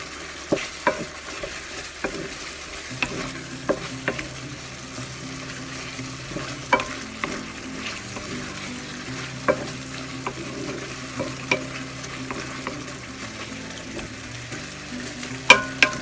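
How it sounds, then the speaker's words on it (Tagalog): Frog meat and bitter gourd being sautéed in a pan as the liquid cooks off. A utensil scrapes and taps the pan in a repeated stirring rhythm over a low, steady sizzle, close up and with no voices. "Gisa lang ng maigi."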